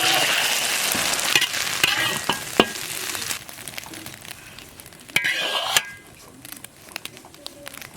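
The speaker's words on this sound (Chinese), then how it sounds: "先炒鸡蛋" Eggs stir-fried in a pan, with loud sizzling and spatula scrapes that come in bursts, quieting midway before a brief renewed flare of sizzle, then softer frying with occasional clicks.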